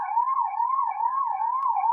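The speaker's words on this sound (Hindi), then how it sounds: "एम्बुलेंस की आवाज़ भी आ रही होगी आपको" An ambulance siren wails loudly and steadily in a rising and falling cycle, close and alone, on a city street in Jamshedpur.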